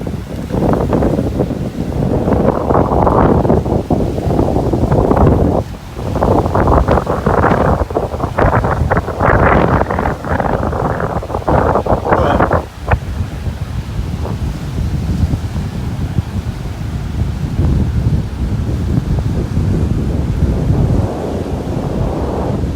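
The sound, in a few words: strong wind at the beach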